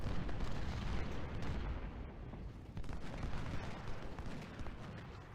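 Civil War artillery in Ultimate General: Civil War, heard as dense booming cannon fire and rumbling blasts that roll on without a break, heavy and low, fairly distant, with no voices.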